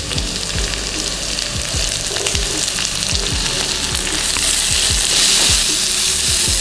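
Ginger, shallots and chili fry hard in a granite wok, making a loud, continuous crackling sizzle up close, with quick spatula scrapes ticking through it and no speech.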